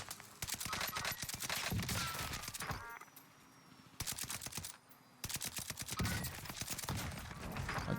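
An NZ41 assault rifle in Warzone fires rapid automatic bursts, loud and close, with brief pauses between strings of shots.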